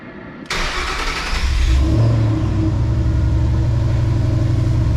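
A Ford Mustang S197 with a Coyote engine starts up: a brief cranking whir, then the engine catches with a loud rev and settles into a deep, close, steady idle rumble.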